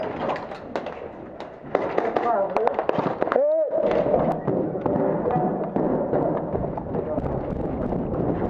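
Rapid airsoft rifle fire, including a VFC 416, crackles through an indoor room assault in a hostage rescue game, sharp close bursts mixed with shouting and talk among players throughout.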